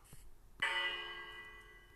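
A single bell is struck once and rings out with a long, shimmering decay. It is fairly soft against faint background noise.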